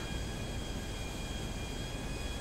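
Airplane flying in GTA 5, a steady broadband engine and wind drone that holds unchanged and loud throughout, with faint high whine tones above and no voices.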